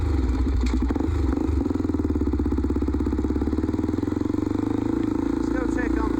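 A Honda 400EX ATV engine idles close by with a loud, steady, rapid thumping pulse that stays even throughout, with a light rattling clatter over it.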